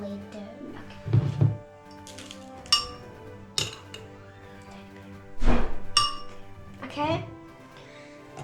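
A metal spoon clinks against a glass several times while brown sugar is added for a kiwi smoothie, sharp ringing taps spaced a second or so apart, with a voice speaking briefly.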